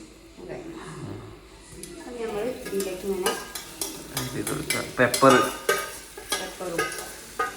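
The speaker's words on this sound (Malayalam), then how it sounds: "ഇനി ഒന്ന് വറുത്തെടുക്കാം. അതില് മുളക് പൊടി, ഉപ്പ്, വെളിച്ചെണ്ണ, മഞ്ഞപ്പൊടി," Food fries in coconut oil with chili powder, salt and turmeric, a bright crackling sizzle with clinks of a utensil against the pan, while a voice speaks over the cooking.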